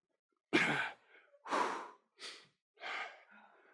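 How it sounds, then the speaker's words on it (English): Four forceful exhaled breaths during a workout, each a breathy whoosh followed by a softer trailing breath, close and fairly loud, spaced about a second apart with no speech. "Breathe it out."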